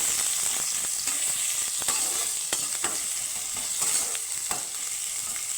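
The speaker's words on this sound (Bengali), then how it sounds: "গ্রেট করে রাখা আদা আর কুচনো লঙ্কা দিয়ে আমি একটু হালকা ভেজে নেব" Cumin seeds, grated ginger and chopped green chili fry in hot oil, giving a loud, continuous close sizzle punctuated by regular scraping stirs.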